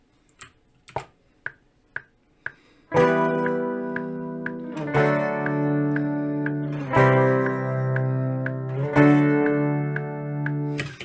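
Several count-in clicks lead into thick, sustained electric guitar chords, layered and effected, changing every couple of seconds with a bright, shimmering tone.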